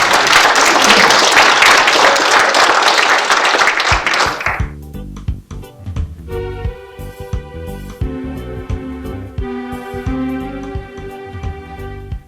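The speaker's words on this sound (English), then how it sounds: "So another round of applause." A Cork genealogical society audience applauds after a talk: dense, loud clapping for about four seconds stops abruptly, and music with steady notes and beats takes over for the rest.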